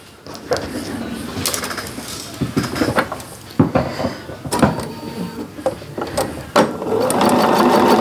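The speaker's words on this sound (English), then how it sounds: "Sew these down, press them to the outside." A sewing machine stitches quilt block pieces in short bursts, with clicks and handling noises between runs and a steadier machine drone near the end, close and fairly loud.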